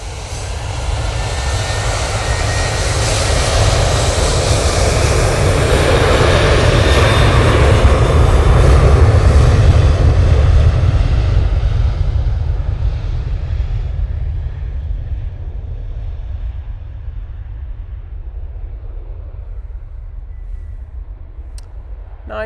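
An airliner lands at Manchester Airport, its engines a loud, deep roar that builds to a peak and then slowly fades as it rolls away into the distance.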